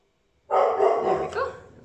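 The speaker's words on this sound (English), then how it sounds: "that's my dog going crazy" A dog barks excitedly indoors in a dense, continuous burst of loud barks and yips lasting over a second, starting abruptly after silence, with no talking over it.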